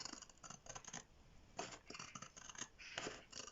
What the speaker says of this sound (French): J'adore ces gros ciseaux.